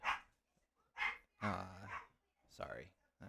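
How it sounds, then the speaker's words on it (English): A pet dog barks and yips in loud, rapid bursts as it chases a child around the house, several close, sharp barks separated by short gaps. "That would be my dog chasing my daughter."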